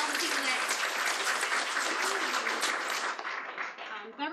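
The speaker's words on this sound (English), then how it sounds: "if we could give, you know, a round of applause for all the people" An audience at an accessibility event panel gives a round of dense applause. The clapping is steady, then thins and fades near the end.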